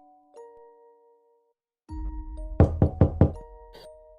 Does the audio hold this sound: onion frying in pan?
no